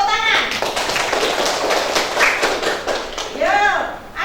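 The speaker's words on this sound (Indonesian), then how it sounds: "Tepuk tangan." Brief classroom applause from students for a poem, a short burst of scattered hand claps with children's voices and chatter mixed in.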